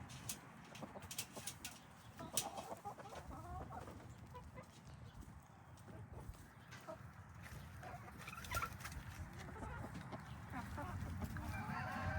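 A flock of silkie chickens in a coop clucks and murmurs continuously, soft overlapping calls from many birds against a steady rustling background.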